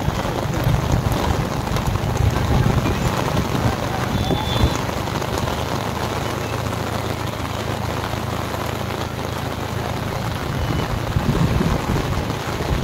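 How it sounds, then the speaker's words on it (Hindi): Heavy rain pours down on Baga Beach in Goa, a dense, steady roar of drops hitting the ground and surfaces that stays loud and even throughout, with a low rumble beneath and no voices. "बारिश बहुत ये भाई बहुत जोर से बहुत बारिश चालू हो गई।"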